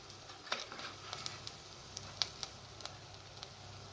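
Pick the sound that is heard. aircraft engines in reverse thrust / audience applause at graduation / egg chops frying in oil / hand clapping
egg chops frying in oil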